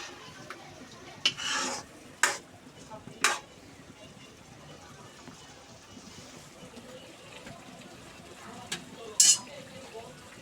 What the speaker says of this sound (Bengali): ভালোভাবে পেঁয়াজ এবং টমেটোর সাথে মিক্স করে নেবে